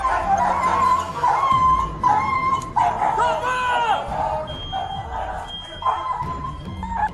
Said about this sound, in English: Control, I need medical for my dog.